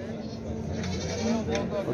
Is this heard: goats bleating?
yes